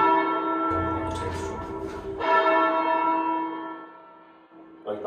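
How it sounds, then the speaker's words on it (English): A cathedral church bell being rung down by hand on the sally and tail strokes, a loud, close, sustained bell tone with long ringing overtones, restruck about midway and decaying before another strike begins at the end. "So if we're going to ring them, we just ring them down like this now"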